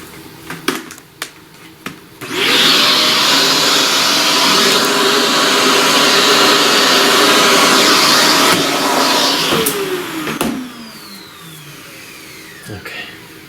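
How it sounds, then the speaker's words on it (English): A vacuum switches on with a sharp whir and runs as a loud, steady drone with a rising tonal hum, used while working on a pastel flower drawing, then spins down after about eight seconds with a falling whine. "Let's vacuum."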